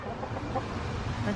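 A broody hen clucks in low, grumbling bursts at close range, and a human voice talks faintly underneath.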